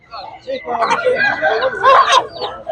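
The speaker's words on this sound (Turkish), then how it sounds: "Karışık köy tavukları. Büyük bir ihtimal içinde mavici de var. Şu e, ön köşede duran tavuklu horoz." Mixed village hens and a rooster at a poultry and livestock market, clucking and squawking up close, loud and continuous, tangled with people talking nearby.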